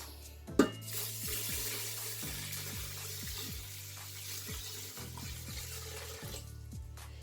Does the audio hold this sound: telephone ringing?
no